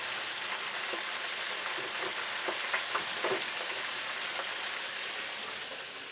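Catfish and whiting nuggets fry in a deep fryer with a dense, even bubbling sizzle like steady rain, close and continuous, fading slightly toward the end.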